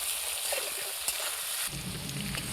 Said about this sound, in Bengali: তো দেখুন আলুটা হালকা ভেজে নিয়েছি, একই সাথে আমি ঝিঙেটাও ভেজে নেব।